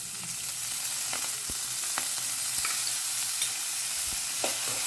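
Dal frying in oil in a pan on a high flame, a steady loud sizzle throughout with occasional scraping stirs of a spoon; no talking.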